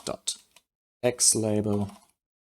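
A few sharp computer keyboard keystrokes tap out code, close and quick, before a voice starts talking over a brief pause.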